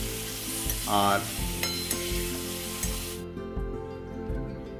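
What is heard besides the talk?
chicken frying in a pan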